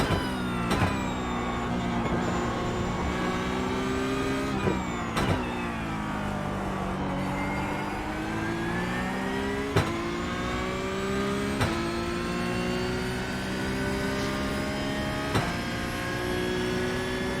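A Porsche 911 Cup car engine in the iRacing sim at Road Atlanta holds a steady, loud drone throughout, its pitch sweeping through gear changes and revs, with sharp shift cracks recurring every few seconds.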